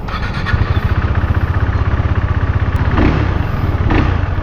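KTM RC390 motorcycle engine idling close up, a loud, steady rapid thumping pulse with a couple of faint knocks partway through.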